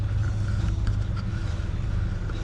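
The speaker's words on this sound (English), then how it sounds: "Got the motor running." A sailboat's engine motors along in calm, windless conditions on a long North Atlantic passage, producing a steady low droning rumble, close and constant with no talk.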